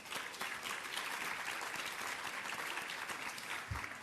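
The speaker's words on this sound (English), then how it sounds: "Let's give ourselves a round of applause." A conference audience of about 650 people gives itself a round of applause, a dense, steady wash of many hands clapping at once that carries on throughout.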